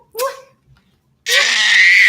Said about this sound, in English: Oh, don't scream.